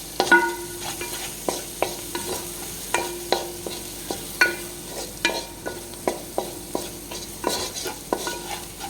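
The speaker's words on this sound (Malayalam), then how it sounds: "പിന്നെ കുറച്ച് ചിക്കൻ മസാല, എന്നിട്ട് നന്നായിട്ട് ഇളക്കുക." Chicken coated in chicken masala is stirred in a pot. A spoon scrapes in regular, distinct strokes about once a second over a faint sizzle, close and without speech.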